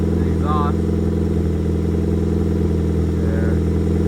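A 2005 Nissan Sentra's 1.8L engine runs just after an oil change, giving a steady, close mechanical hum that holds unchanged throughout with no revving.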